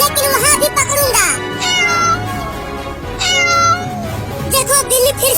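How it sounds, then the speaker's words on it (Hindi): A cat meows several times in bright, repeated calls over a background of music and other sounds. "देखो बिल्ली फिर से जा रही है उसे पकड़ने के लिए।"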